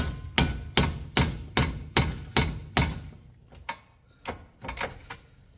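Sharp, close hammer taps on a 2010-2015 Toyota Prius front wheel hub during replacement: a steady run of about eight evenly spaced strikes, then a few quieter, irregular hits.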